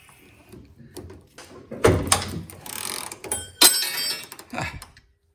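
Sharp metallic cracks and grinding clunks ring out as a bolt snaps while being undone on a Bradshaw / Taylor Dunn electric tug truck, with two strong bursts among smaller scrapes and clicks, close and without talk.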